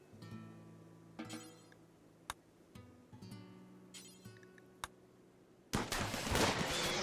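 RimWorld turret firing in short bursts of gunfire against quiet game music, with sharp isolated shots scattered throughout and a dense, louder volley near the end.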